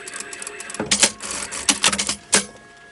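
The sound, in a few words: sewing machine stitching fabric of a rag doll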